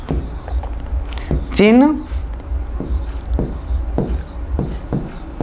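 Marker or chalk strokes on a board during a physics lecture on refraction of light, a steady series of short scratchy taps and scrapes close by, heard under a man's ongoing speech.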